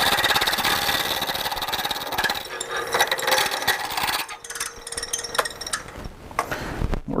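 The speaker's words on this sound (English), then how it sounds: "We're going to be spinning our blank roughly at about 1300 RPMs." Wood lathe spinning an acrylic pen blank at about 1300 RPM as a tool turns it round, a loud continuous whirring hum with rough scraping and chattering from the cutting edge throughout.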